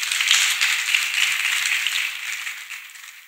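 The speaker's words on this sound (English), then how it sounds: "Let us once again clap for Master Jesus." A crowd claps steadily together at a church healing and testimony service, a dense wash of many hands that stays loud throughout and eases off slightly toward the end, with no talking.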